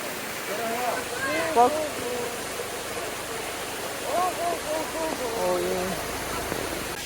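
A waterfall in the Carpathian mountains near Mykulychyn, Ukraine, gives a steady moderate rush of falling water throughout, with people talking over it.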